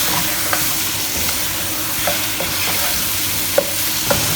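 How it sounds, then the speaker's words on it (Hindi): Chicken sizzles loudly in a pan with coriander powder and turmeric while it is stirred and roasted. A dense, continuous frying hiss is punctuated by occasional sharp scrapes of the spoon, close up and with no speech. "सब स्पाइसेस के साथ चिकन की अच्छी तरह से भुनाई कर लें।"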